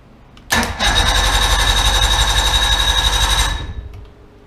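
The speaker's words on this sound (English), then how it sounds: "When I turn the key, the motor starts extremely strong." An outboard boat motor started with a key cranks briefly and then catches, running loud, steady and strong nearby for about three seconds before cutting off, with no talking.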